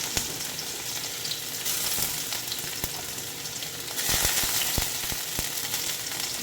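Onions sauté in a hot pan for mung bean stew with a steady, close sizzle, broken by sharp clicks and scrapes of stirring, and no voices.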